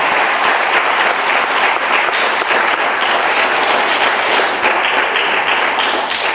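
Loud, dense applause from an audience at a high school project presentation, a continuous, even roar of many hands clapping at close range with no voices on top.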